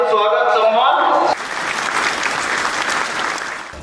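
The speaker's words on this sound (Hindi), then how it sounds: "इनके लिए जोरदार तालियां बजाकर हार्दिक स्वागत सम्मान" Audience applause at a farmers' meeting about potato crop management and millet farming breaks in after a loud speaking voice cuts off, then continues as a steady, moderately loud clatter of many hands clapping.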